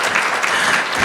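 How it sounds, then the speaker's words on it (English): Audience applause fills the room at a business forecast breakfast, a steady, dense wash of clapping that holds at an even level throughout with no voices over it. "You can clap for that."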